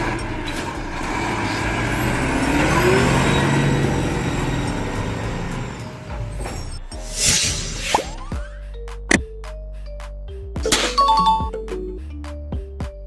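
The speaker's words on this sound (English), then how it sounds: "This is a split body garbage truck with dual compartment" A large split-body, dual-compartment garbage truck's engine rumbles steadily, followed by hydraulic whines, clanks and short hissing air bursts from its mechanisms.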